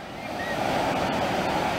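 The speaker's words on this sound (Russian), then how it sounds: "Опять волны." Black Sea surf rolls onto a summer beach in Bulgaria, a steady wash of waves with wind noise, moderately loud and continuous, with no voices over it.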